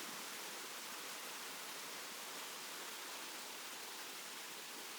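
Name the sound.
flowing water at waterfall in Siquijor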